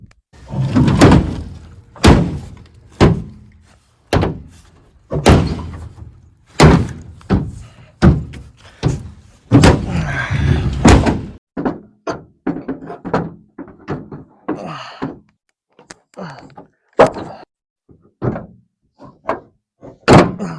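Pickup tailgate on a second-generation Dodge dually slammed repeatedly, a series of loud close metallic thunks and bangs, some rapid and some spaced out, with no talk.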